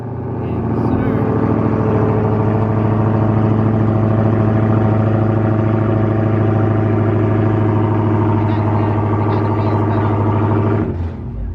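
A Dodge Charger Hellcat engine runs close by, a loud, steady, deep roar with a rich low-frequency drone that holds for about ten seconds before cutting off abruptly near the end.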